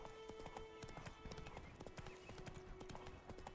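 Hooves of a horse galloping in The Witcher video game, a quick steady clip-clop rhythm of many close, sharp strikes across the short stretch, with faint background tones beneath.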